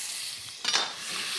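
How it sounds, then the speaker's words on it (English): Garlic in olive oil sizzles in a warm pan with a constant bright hiss, briefly rising as the pan contents are stirred, with no talk over it. "You can hear it sizzling almost instantly."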